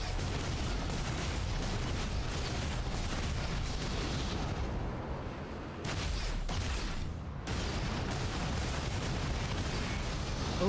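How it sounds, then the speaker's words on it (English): A video-game plasma cannon fires in a dense, continuous roar of blasts and booms that hardly lets up. It dips briefly twice before surging back at full strength. "Plasma cannon."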